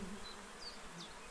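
Bees drone faintly in the video game Kingdom Come: Deliverance II, a low steady buzz with a few thin whines passing, cut off by the start of a voice at the end.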